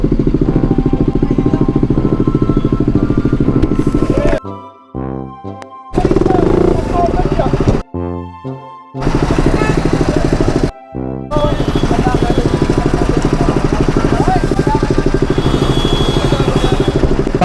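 KTM motorcycle engine revving and pulling away on a Jammu to Hyderabad road trip, loud and close, with the drone cutting out briefly in several spots as gears change, then running steadily.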